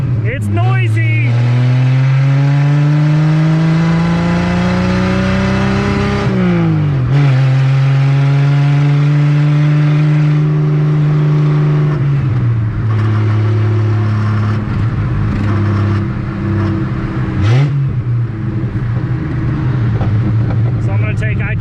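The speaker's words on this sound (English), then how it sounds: "I'm actually sitting in traffic in the TR250, and it is nighttime." Triumph TR250 sports car driving at night in traffic, with its engine droning loudly and close throughout, pitch rising and falling through several gear changes and rev swells.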